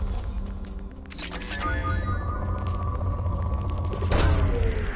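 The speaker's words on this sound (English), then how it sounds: "Launching probe." A probe launches in the video game Mass Effect 2, two whooshing booming bursts rising over a dense, steady rumble and electronic hum, with no talking.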